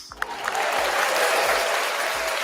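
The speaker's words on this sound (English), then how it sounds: "Everybody, a round of applause." A studio audience breaks into applause, building from a few claps into dense, sustained clapping that fills the room, with no talk over it.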